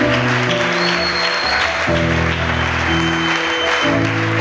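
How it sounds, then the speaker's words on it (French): Church congregation at a Sunday service claps along, a steady rush of applause running beneath loud, sustained keyboard chords that shift every couple of seconds. "Est-ce qu'on peut applaudir pour notre Église?"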